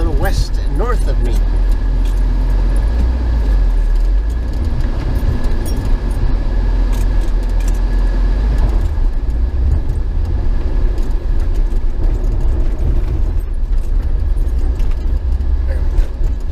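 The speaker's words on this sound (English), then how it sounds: "We hit the steel plate again." A car drives across a bridge with a wooden deck and a steel plate in rural Atchison County, Missouri, giving steady loud road rumble with rattling thumps and clanks from the deck, while someone talks over it.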